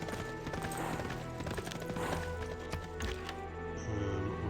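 Horses' hooves clip-clopping in a medieval strategy video game, a busy run of overlapping hoof taps with a whinny, over game background sounds.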